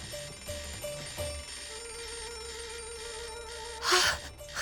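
Many alarm clocks ring at once in a bedroom, with several electronic beeping and ringing tones repeating and overlapping at moderate volume, ending in a brief louder burst.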